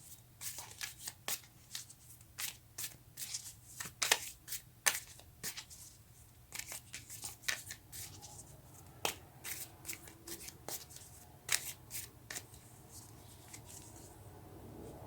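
Tarot cards are shuffled and drawn by hand, giving soft, close, irregular riffling and snapping clicks over a faint background hum.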